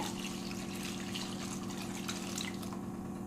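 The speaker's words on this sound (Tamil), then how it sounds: "ஒரு ரெண்டு டம்ளர் தண்ணி சேர்த்திக்கலாங்க" Two tumblers of water poured into a kadai holding green field beans, potatoes and turmeric, a continuous close splashing pour with a steady liquid rush and no talking.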